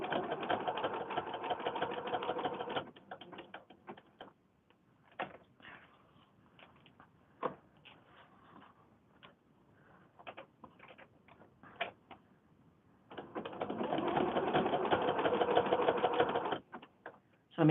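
A sewing machine stitching appliqué down on a pre-printed fabric panel, running in steady close bursts at the start and end with quieter pauses and scattered single clicks between.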